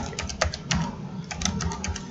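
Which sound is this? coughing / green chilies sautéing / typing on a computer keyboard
typing on a computer keyboard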